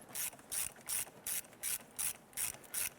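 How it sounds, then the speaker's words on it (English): A ratchet clicks in eight even, quick bursts while hose clamps are snugged down on a Nissan Versa in a garage, the sound close and crisp with no talking. "Let's now snug down our clamps."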